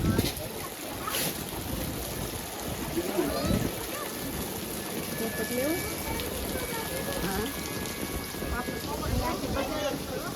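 Steady rain patters and hisses over wind and water noise outdoors beside a full lake in fog at Mount Abu, with some talk mixed into the background.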